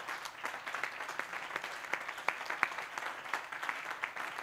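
A church congregation at a covenant service claps in a loose, uneven rhythm, with sharp individual hand claps standing out from the moderate, somewhat distant patter.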